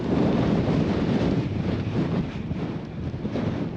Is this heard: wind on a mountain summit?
yes